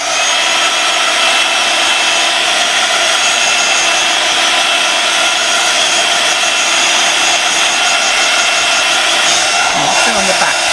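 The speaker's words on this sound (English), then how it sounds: "let's just give this a very quick heat, just to make sure those lines are dry" A heat tool blows hot air to dry watercolour lines on an art journal page. It makes a loud, steady, close whirring roar that runs unbroken throughout.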